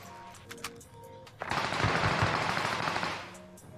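Sustained burst of automatic gunfire from an Azua Kingfisher in a battle-royale style video game, loud and dense for about two seconds after a few faint tones and clicks, then tapering off.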